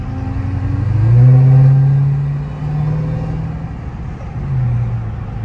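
A stock Dodge Hellcat engine revving with a rising and falling whine, loud and close, swelling in a strong surge then easing and building again.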